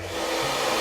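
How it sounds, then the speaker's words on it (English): A hairdryer blows steadily on the sail of a small homemade model sail car, giving a continuous broadband whoosh at close range with no talk over it. "So what I'm going to use is a hairdryer."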